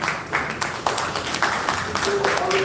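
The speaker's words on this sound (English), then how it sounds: "So please let me give you a round of applause." An audience applauds at a ministry event, with steady scattered clapping that carries through the whole moment, under light background voices.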